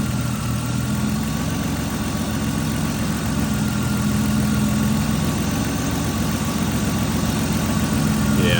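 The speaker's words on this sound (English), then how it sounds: "I do know that it idles a little weird. I think that's just because of this hole in the boot" A BMW engine idles roughly and unevenly through a torn boot, a steady close rumble with a constant low hum and faint vibration that runs through the whole stretch.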